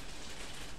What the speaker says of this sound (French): Si vous entendez ce bruit, c'est la pluie